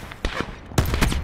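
Gunfire in Call of Duty: Black Ops 4 Blackout on PS5 landing a headshot, a couple of quick loud shots in close succession, near and punchy, with no talk over them.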